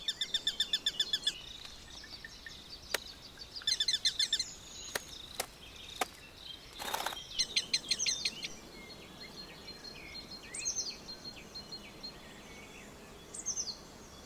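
Rapid high-pitched chirping and peeping from small birds, coming in repeated bursts with a few sharp clicks, over a steady outdoor hum.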